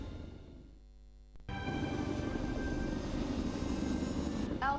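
Aircraft engines in LEGO Marvel's Avengers rise into a steady, loud roar after a short quieter lead-in, holding a sustained drone through the rest with a brief whine near the end.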